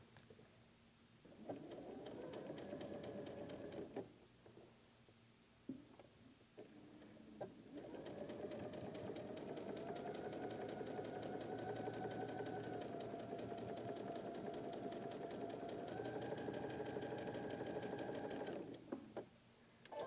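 Sewing machine stitching a seam on a concentric-square freeform quilt block, running in a few short bursts and then in one long continuous run with a rapid, steady mechanical whir; no one speaks over it.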